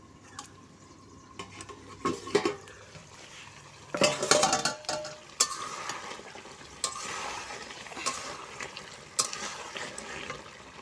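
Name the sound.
meat cooking in a pot on a clay stove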